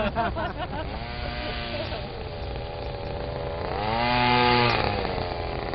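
Small two-stroke engine of a King Kong 1/5 scale RC monster truck still being broken in, buzzing loud and close, its pitch rising and falling as the throttle is revved, with voices faintly underneath.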